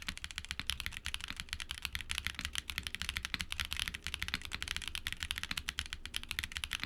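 TTC thocky linear keyboard switches being typed on in a sound test, a fast, dense run of close, even keystrokes clattering continuously with no talk.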